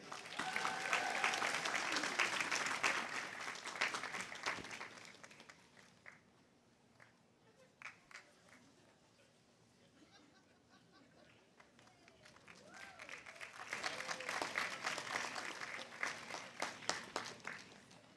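Applause from the crowd at Pacific University's August 2022 commencement for graduates receiving doctorates, swelling loud at the start, fading to a quieter patch in the middle, then rising again near the end.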